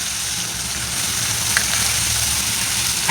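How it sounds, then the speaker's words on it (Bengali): Chopped onion drops into hot oil with black cumin and fries with a steady, loud, bright sizzle and crackle throughout, with a few small pops. "এবার আমি দিয়ে দিচ্ছি পেঁয়াজ কুচি।"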